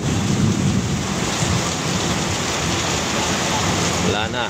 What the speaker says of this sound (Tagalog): ang lakas ng kidlat, kulog, lakas pa ng ulan